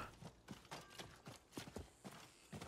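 Quiet, rhythmic hoofbeats of a pre-order horse mount in Diablo IV, a steady clip-clop gait of distinct thuds, fairly soft and alone.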